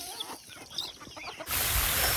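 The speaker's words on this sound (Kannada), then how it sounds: "ನನ್ನ ಹತ್ರ ಇರೋಂಥ ಪ್ಯೂರ್ ನಾಟಿ ಕೋಳಿ ಎಲ್ಲ ಯಾವ ರೀತಿ ಓಡ್ ಬರ್ತಾವೆ ಅಂತ ತಿನ್ನೋಕ್ಕೆ" Native country chickens cluck close by as they hurry in to feed, short soft clucks over a brief stretch before a burst of broad rustling noise.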